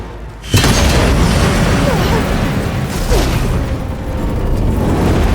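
A loud explosive boom from explosive ammunition in Horizon Zero Dawn Remastered erupts suddenly after a quiet moment, followed by a sustained rumbling roar with voices faintly mixed in.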